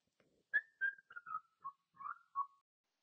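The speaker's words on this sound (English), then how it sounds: "And here's a bonus whistle." A person whistles a short, faint descending tune of about seven notes, picked up by an AirPods Pro 2 microphone in a very quiet room with nothing else heard.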